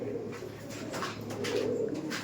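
Soft, low cooing of Madrasi pigeons runs steadily under a murmuring background, with no voices.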